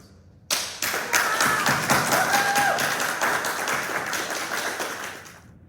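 Steady applause from a graduation ceremony audience breaks out suddenly and holds for about five seconds, a dense wash of many hands clapping that tapers off at the end.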